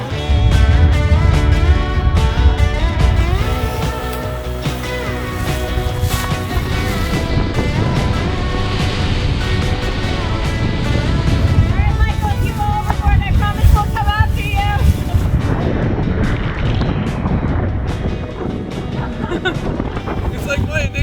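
Strong wind of about 30 knots roars across a sailing boat at sea off Cape Town, making a loud, constant rush with buffeting gusts against the microphone, and voices talk over it.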